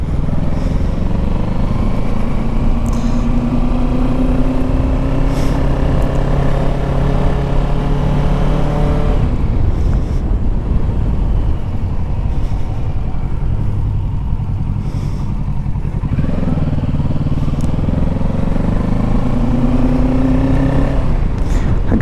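A motorcycle engine rides along Main Street, loud and close throughout, with the revs rising and falling through gear changes and a brief easing of the throttle midway before it pulls hard again.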